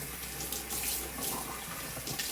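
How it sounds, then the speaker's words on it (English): A bowl rinsed under a running kitchen sink faucet, the water streaming steadily and close by for a couple of seconds with no talking. "set this in the sink real quick. Rinse it off."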